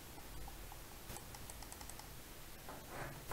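An Arctic Fox RGB gaming mouse gives rapid, light plastic button clicks in a quick irregular series against a steady faint hiss, with no voices.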